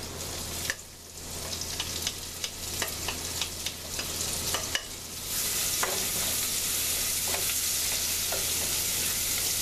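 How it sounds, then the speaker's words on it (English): Shallots sizzle and fry in a hot pan for a white-wine clam dish, a continuous crackle broken by scattered stirring clicks and scrapes, then settling into a louder, even sizzle. "add your shallots."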